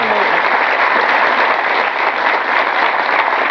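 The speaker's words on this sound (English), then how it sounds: "Yes, please clap for that." A studio audience claps steadily and loudly throughout, a dense continuous patter of many hands at close range.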